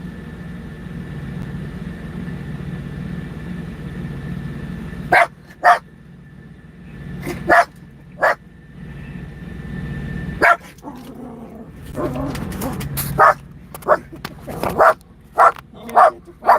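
A dog at a truck stop lets out a string of sharp, loud barks, first sparse and then quicker, breaking over a steady engine-like hum.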